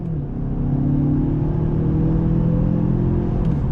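A 2021 Mazda 6 Signature accelerates on throttle in second gear, its engine drone rising in a steady close-up rumble with no voices.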